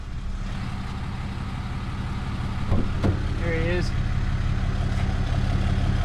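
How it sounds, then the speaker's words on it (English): Truck engine idling nearby during a hog-hunting outing, a steady low diesel rumble running the whole time under a man's brief speech. "I apologize for the truck noise."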